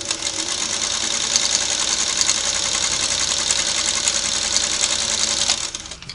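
A Singer Model 301A sewing machine stitches steadily at about 12 stitches per inch, a loud, even mechanical whir with a rapid needle rhythm that runs without a break for about six seconds before easing off at the end.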